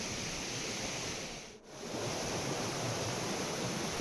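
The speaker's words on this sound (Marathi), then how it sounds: "आता पावसाळा सुरू आहे, तर पर्याला पण बघा किती पाणी आहे।" A small stream swollen with monsoon rain rushes past in a steady, loud, broadband wash of water, close by, with one brief dip in the middle and no voices.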